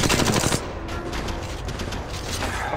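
Gunfire in the mobile shooter Apex Legends Mobile: a rapid automatic burst rattles loud and close for about half a second, then gives way to a dense, continuous roar of battle noise.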